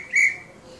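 A short, sharp single whistle tone from a Call of Duty video game, a brief bright blast lasting a fraction of a second that fades quickly, heard alone.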